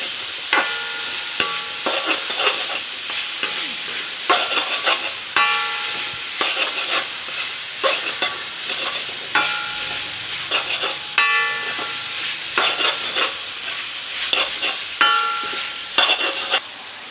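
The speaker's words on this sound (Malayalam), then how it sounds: "അപ്പോൾ നമുക്ക് സവാള ഒന്ന് ഇളക്കി വെച്ച് കൊടുത്തതിന് ശേഷം" Onions frying in a pan for a Tripunithura-style chicken curry, with a steady close sizzle broken by repeated scraping, clattering stirs every second or so, with no talk.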